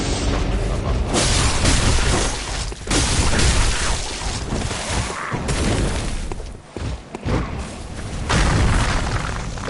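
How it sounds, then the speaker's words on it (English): Explosive projectiles bursting on impact with the ground in the video game Bloodborne, heavy booming blasts rolling one after another throughout, dense and loud with barely a pause. "Those explode when they hit the ground, causing area of effect damage"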